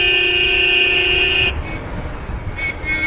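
A sustained vehicle horn blares loud and close for about a second and a half in Kolkata street traffic, then cuts off, leaving rumbling road noise and faint distant horns.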